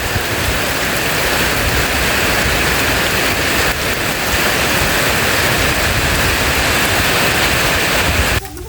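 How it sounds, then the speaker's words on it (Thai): Steady rain falls in a dense, loud, continuous hiss, heard close by in an outdoor rural setting, with no voices, before easing abruptly at the very end. "บรรยากาศฝนตกพี่น้อง"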